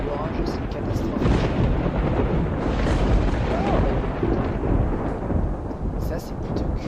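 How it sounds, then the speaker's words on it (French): A thunderstorm in the video game Project Zomboid roars as a continuous deep rumble of thunder with heavy rain hiss, loud and steady throughout, with no voice over it. "l'orage, c'est une catastrophe."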